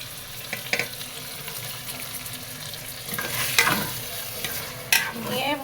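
Washed red lentils being stir-fried in a hot pan, a close sizzle with bursts of scraping stirring and louder splashy hisses toward the end, no voices.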